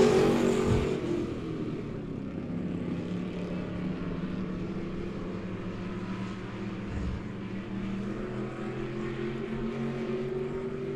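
Race cars roar around the oval at Monett Raceway, a dense steady engine drone with a louder surge near the start and another swell around the middle, continuous throughout with no talk.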